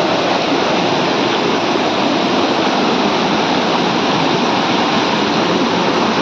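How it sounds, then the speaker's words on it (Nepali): A river runs fast with a steady, loud, unbroken rush of water close by, and no voices are heard. "देख्नु सक्छु होला तपाईँहरूले खोलाहरू कस्तो बगाल्छ भनेछ होइन"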